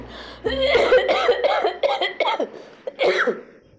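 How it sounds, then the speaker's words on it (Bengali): Someone speaks in a short run of voiced bursts that may include coughing or throat clearing, near and fairly loud. The cough itself is not clearly set apart from the talk. "কাশিটা একটু আসছে"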